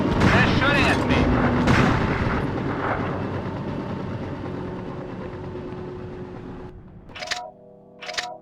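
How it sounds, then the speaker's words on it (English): Gunfire and heavy explosions hit around the player in Mercenaries: Playground of Destruction, a loud booming rumble with rapid shots that fades into a low drone, followed by a couple of sharp later impacts. A voice talks over it. "They're shooting at me."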